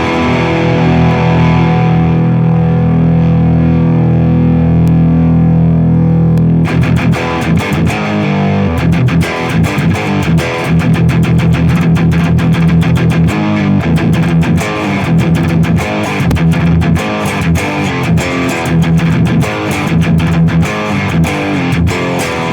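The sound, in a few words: electric guitar through Mercuriall Spark Marshall amp simulator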